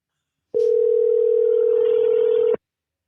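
A steady telephone dial tone holds unbroken for about two seconds during a call attempt to Wendy's, loud and clean, with a brief click at the start and silence on either side.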